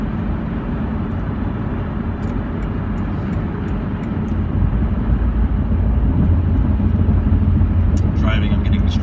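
A car on the move, heard from inside as a loud, continuous low road-and-engine rumble that swells slightly midway, with a person talking over it.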